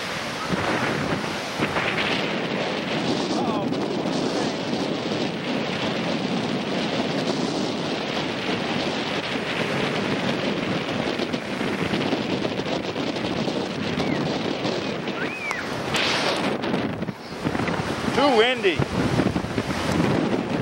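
Steady, blustery wind at a beach buffets the microphone throughout, with a constant roar of gusts and faint surf; brief voices come and go underneath.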